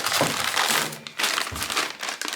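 Close, loud crinkling of a plastic bag being handled in bursts during a drone unboxing, with brief pauses between the rustles.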